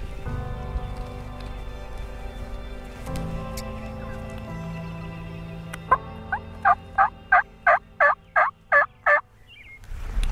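A wild turkey gobbles in a rapid burst of repeated calls, loud and fairly near, after a stretch of low rumbling background noise, during a spring archery hunt in Nebraska.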